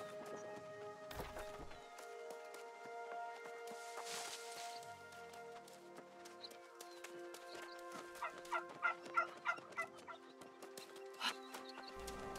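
Turkey gobbling in the video game New World, several short bursts of rapid gobbles rising in the latter half over a steady bed of game ambience and music tones.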